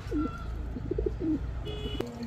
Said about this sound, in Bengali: এখন দেখাবো ছাড়াছাড়ি লাইনের এক জোড়া লাল গলা কবুতর